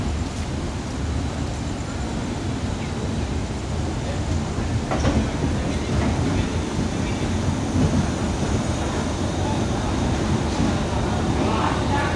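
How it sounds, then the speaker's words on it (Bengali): The Agniveena superfast express rolls into Asansol Junction with a continuous heavy rumble and wheel clatter, plus occasional sharper clanks. It stays loud and steady throughout, with faint talk mixed in. "বন্ধুরা এখন ট্রেন ঢুকছে আমাদের যাত্রার, আমাদের জার্নির শেষ স্টপেজ আসানসোল জংশন"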